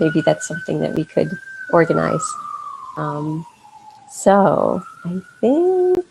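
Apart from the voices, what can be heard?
emergency vehicle sirens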